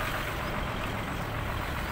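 A parked vehicle sits with its engine running beside a canal at Head Muhammad Wala near the Chenab in Multan, giving a steady, even rumble of broadband engine and road noise with no break and no talking.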